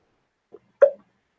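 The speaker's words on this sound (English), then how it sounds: "I've got hiccups" A man gives a single sharp, close hiccup, preceded by a faint catch of breath, in an otherwise quiet room.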